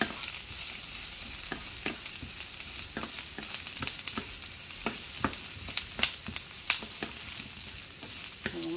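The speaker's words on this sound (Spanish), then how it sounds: "Vamos a freír la cebolla y el ajo." Chopped onion and garlic frying in hot oil, a constant bright crackling sizzle with frequent sharp spatter pops and occasional stirring clicks, close up and steady.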